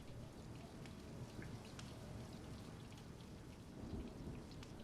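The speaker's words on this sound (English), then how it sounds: "the rain that has been rehearsing all evening arrives properly, a soft, business-like London rain on the shutters" Soft, steady rain patters on window shutters in London at night, a continuous even wash of fine drops with no voices.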